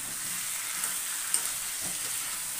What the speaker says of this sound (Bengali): এই যে মাংসটা আর আলুটা করে রেখেছি, ভেজে রেখেছি, কষিয়ে দেবো।